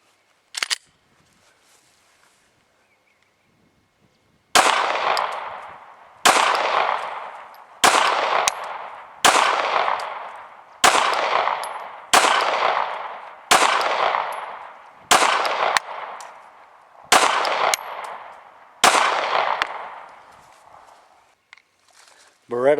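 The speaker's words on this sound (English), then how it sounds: "Glock 26." Eleven Glock 26 pistol gunshots fired one at a time at an even pace, each a sharp loud crack followed by a short echoing decay, after a quiet lead-in.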